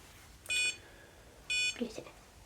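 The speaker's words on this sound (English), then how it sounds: "So it's beeping like it's trying to connect to the Bluetooth, but it isn't." Two short bursts of high electronic beeping from an Elecrow CrowBot BOLT robot failing to connect over Bluetooth, each lasting a fraction of a second, about a second apart, with a faint low noise between them.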